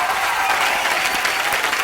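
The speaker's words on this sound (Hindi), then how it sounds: "जोरदार तालियां एक बार कार्तिक के लिए।" Loud, dense studio audience applause welcoming actor Kartik Aaryan on a comedy talk show, a continuous roar of clapping close up that stays full and unbroken.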